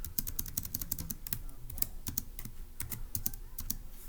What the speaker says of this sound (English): So let me go ahead and type that up in section C